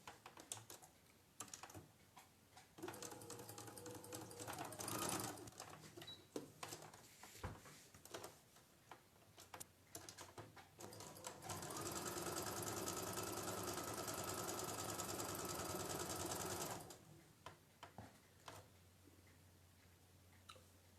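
A sewing machine stitches patchwork pieces together, with short stuttering bursts and light clicks followed by one long, steady run of rapid stitching that stops abruptly.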